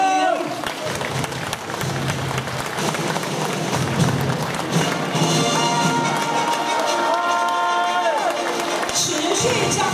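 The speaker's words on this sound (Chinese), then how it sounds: "持续掌声跟尖叫声！" Sustained applause and excited screaming from a live audience greeting puppetry master Huang Chun-hsiung as he takes the stage, a dense steady roar of clapping and shrill cheers that holds loud throughout.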